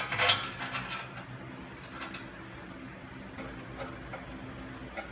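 Spring compressor ratcheting on the front strut of a 2006 Toyota 4Runner Limited 2WD, a sharp metallic clatter at first, then steady close-up ticking clicks from the tool mechanism.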